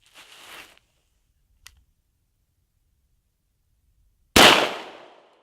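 A 9mm firearm fired outdoors with the muzzle a few inches above snow, one sharp loud blast that decays quickly, with faint rustling before it.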